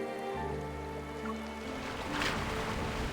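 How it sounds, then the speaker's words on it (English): Waves lap steadily against a beach in Love and Deepspace, a soft continuous wash of water under sustained ambient music tones, swelling slightly toward the end. "the only echoes I hear are from the waves perpetually lapping against the shore."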